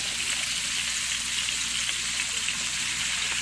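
Vegetables sizzle steadily in a hot frying pan while a shrimp linguine dish is cooked, a loud continuous hiss with faint stirring, no voices.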